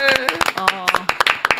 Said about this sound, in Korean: 박수로 맞아